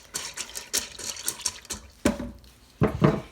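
Pasta and salt are stirred in water inside a Ninja Foodi pot, giving close, quiet scraping and swishing strokes in an uneven rhythm. A couple of louder knocks against the pot come near the end.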